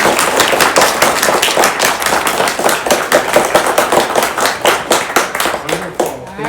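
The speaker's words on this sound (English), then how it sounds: "Let's do a round of applause again," An audience at a student hackathon showcase claps steadily in a dense, loud burst of applause that continues for several seconds before thinning out.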